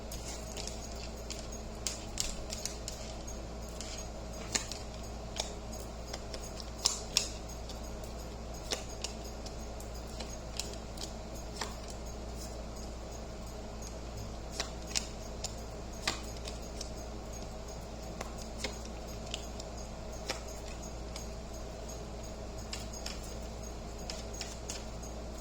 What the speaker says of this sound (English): let's shuffle it one more time, and we will begin